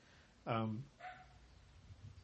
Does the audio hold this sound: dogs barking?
yes